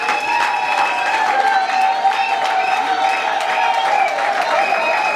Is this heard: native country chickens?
no